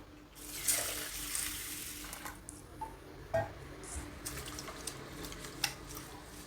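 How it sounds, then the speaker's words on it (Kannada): Urad dal, chana dal and fenugreek seeds washed in water in a bowl, with continuous splashing and swishing and a few louder sloshes and clinks, close and without speech. "ಇದನ್ನೀಗ ಒಂದೆರಡು ಮೂರು ಸಲ ಚೆನ್ನಾಗಿ ತೊಳಿಬೇಕು"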